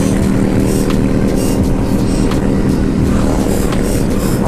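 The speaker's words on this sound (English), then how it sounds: "Oh, that's such a nice bike." A Harley-Davidson motorcycle engine runs at Silverstone circuit, a loud steady rumble with a firm low drone that continues for several seconds with no talking.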